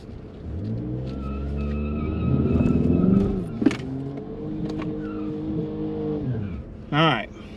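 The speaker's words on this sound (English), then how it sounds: "I'm going to do a little dry hop." A 2023 Ford Mustang EcoBoost at a drag strip runs a short dry hop, its engine rumbling and swelling briefly before settling to idle, with a voice talking over it and a short rising whine near the end.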